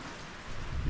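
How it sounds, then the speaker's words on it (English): Steady rain hissing down outdoors on a mountain, a dense, even patter that swells slightly louder toward the end, with no voices present. "it's still raining"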